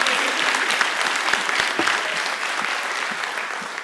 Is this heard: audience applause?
yes